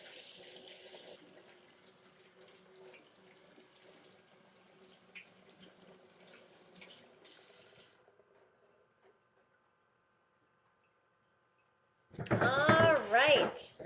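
Water running from a kitchen tap while hands are washed, a close, loud gush arriving at the very end after a stretch of faint background and silence.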